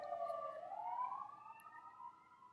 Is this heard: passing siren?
yes